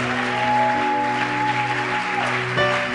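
Church congregation clapping and cheering, a dense, steady wash of applause and voices with sustained organ or keyboard tones underneath throughout.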